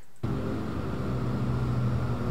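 Weather noise in the X-Plane 10 flight simulator, with an aircraft cruising at about 240 knots into clouds, starts abruptly after a brief silence as a steady low rumbling wash with a faint drone, continuous and even to the end.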